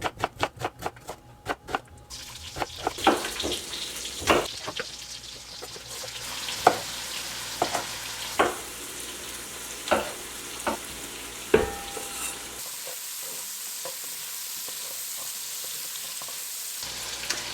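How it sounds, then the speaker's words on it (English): Onion and chopped garlic frying in a pot of hot bacon grease: a steady sizzle with repeated sharp clatters of stirring, which quiets to a softer hiss toward the end. No one speaks. "I'm going to chop up one onion and then some garlic cloves, about 4 garlic cloves, and then add those to the pot of hot bacon grease."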